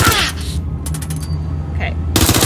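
Enemy gunfire hits the player in an open-world action game set in London, with short bursts of sharp shots at the start and end, between stretches of quieter background noise and a speaking voice.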